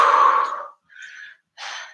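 A person breathes out hard during a kettlebell core exercise workout, one long loud exhale followed by two shorter, softer breaths, close and alone.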